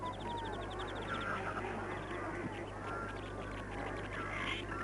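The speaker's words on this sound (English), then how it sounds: "These are freckled duck." Freckled ducks call in the wild. Soft, repeated quacking notes sit under a steady noisy background, with a short rapid run of higher calls near the start.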